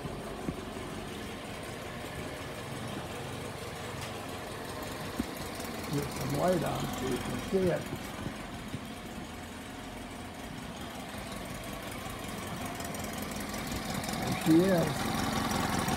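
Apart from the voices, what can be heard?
four-stroke engine idling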